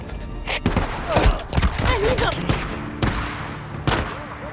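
Gunfire in the video game Days Gone, a series of sharp shots over a busy, noisy scene, with voices and other game sounds around them.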